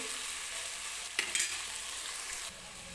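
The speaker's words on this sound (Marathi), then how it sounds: "तर एक 2-3 मिनिटे मी आलं लसूण सुद्धा ह्या भाज्यांसोबत व्यवस्थित भाजून घेणार आहे." Ginger, garlic and vegetables sautéing in hot oil for veg pulao: a constant close sizzle broken by a couple of brief stirring scrapes and clinks.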